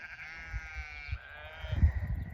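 Sheep bleat several times in wavering, nasal calls from a flock on a rural off-grid property in Portugal, fairly close, with soft rustling and low thumps beneath.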